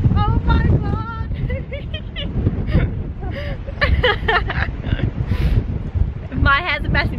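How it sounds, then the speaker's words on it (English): Strong wind buffets a microphone outdoors at a convention meet-and-greet, a steady low rumble running the whole time under frequent talking and exclamations from nearby voices. "It's so windy out here."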